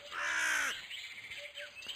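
Crow in the Nature Treks VR game on Meta Quest 3 giving one loud harsh caw followed by quieter trailing calls and chirps, close and clear without speech.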